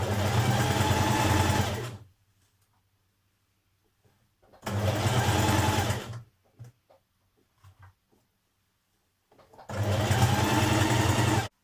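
A sewing machine stitches a sweatshirt neckband in three bursts of fast, even whirring, each about two seconds long and separated by quiet pauses with small handling clicks.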